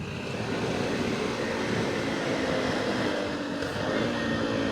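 A mostly stock Honda Monkey motorcycle being ridden, a fairly quiet engine drone with steady wind rush that holds constant and close throughout, with no talk.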